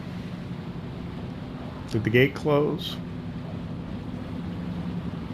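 A ferry motors across a river in Farming Simulator 25, giving a steady low engine drone that runs through the whole stretch while someone briefly speaks over it.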